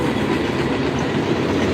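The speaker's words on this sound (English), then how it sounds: "There's your train right there." Train passing by in Las Vegas, a loud, dense rumble with rhythmic rolling clatter of wagons over the rails, steady throughout with no talk.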